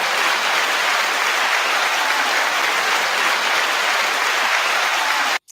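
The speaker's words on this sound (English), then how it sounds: "9-second applause to you all" Sustained applause from a crowd or a played-in clapping track, dense and steady for about five seconds before it stops abruptly.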